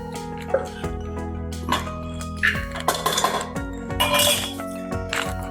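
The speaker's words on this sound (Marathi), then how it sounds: "पुन्हा त्याच भांड्यामध्ये आपल्याला आता ती डाळ टाकून आणि गुळ टाकायचं" Dal and jaggery tipped into a metal pot for Maharashtrian tava puran poli, with clinks and knocks of cookware and utensils scattered through the clip, fairly close and clear, no talk.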